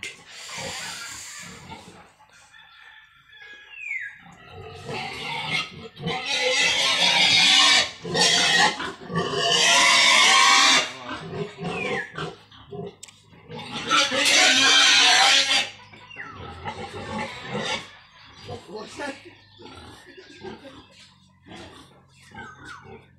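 Mother pigs grunt and oink in loud, irregular bursts close by, with snorting, snore-like breaths between them and a few quieter pauses; no speech is heard.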